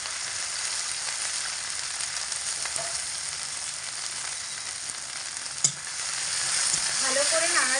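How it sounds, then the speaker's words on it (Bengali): Onion paste and green chilli paste fry in hot oil with a steady, continuous sizzle while being stirred, with a brief clunk of the utensil partway through and the frying growing slightly louder toward the end. "ভালো করে নাড়াচাড়া করে একটু লাল লাল করে ভাজা ভাজা করে নেব এগুলোকে।"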